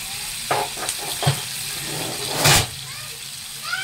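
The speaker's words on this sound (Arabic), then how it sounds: "انا حطيت قرب كده انا شويه زيت، وهحط عليهم بصل بودر" Onion powder sizzles in a little oil in a pan, a continuous close hiss of frying with a few brief louder bursts as it is stirred, under a voice talking.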